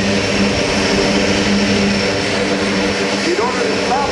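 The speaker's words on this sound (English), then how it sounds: "Backing up the airplane with the reverse thrust." C-130J-30 Hercules turboprop at an air show with its propellers in reverse thrust, a loud, steady roaring drone that holds throughout, with a rising engine tone near the end and voices faintly under it.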